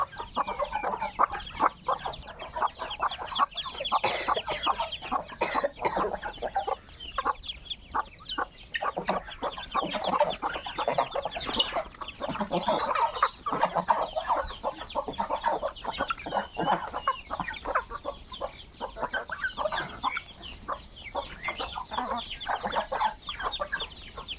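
Domestic ducks, including local, Muscovy and Chinese breeds, quack and cluck in a busy, continuous chatter near a village home, a dense flock heard close throughout without speech.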